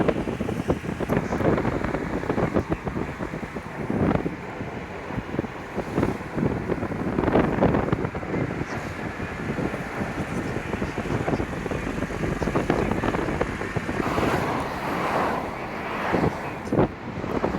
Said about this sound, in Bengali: গাড়ির গতি ভীষণ জোরে, প্রায় 70 মাইলে যাচ্ছে।